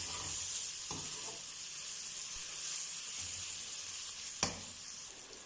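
Sliced onions and okra fry in a pan with a continuous close sizzling hiss, broken by a couple of soft knocks and one sharper clack of a utensil, with no voices.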